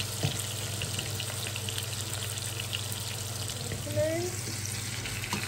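Vegetables fry with meat in a pan, giving a steady, fairly quiet sizzle with occasional stirring scrapes and a low constant hum beneath, no speech.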